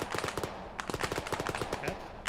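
Rapid bursts of gunfire from the video game Arma 3, a fast automatic rattle of closely spaced shots running steadily through the moment with no one talking.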